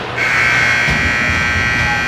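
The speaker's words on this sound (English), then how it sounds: "That's the buzzer for end of second period." A loud, sustained electronic buzzer ending a hockey period blares in a large echoing arena, holding steady to the end, with a faint crowd murmur beneath.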